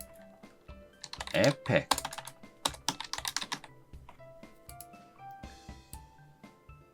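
Typing on a computer keyboard, close and crisp, in quick irregular bursts of clicks, with a person speaking over part of it.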